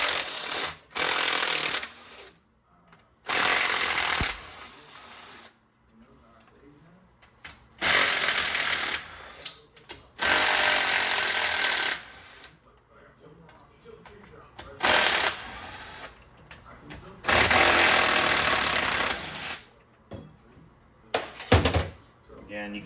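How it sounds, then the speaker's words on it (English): An impact tool rattles off bolts from an STI 6MT manual transmission in repeated loud bursts of a second or two, separated by quieter pauses with handling noise and brief talking. "I'm going to take out some of my other bolts, get the noise out of the way."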